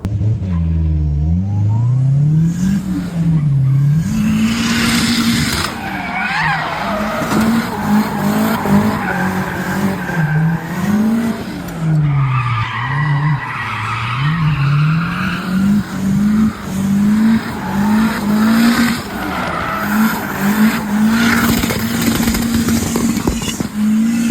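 A Hyundai Genesis Coupe fitted with an angle kit drifting at a drift event, its engine revving up and down in repeated surges under long, loud tire squeal, heard close and continuous for the whole stretch.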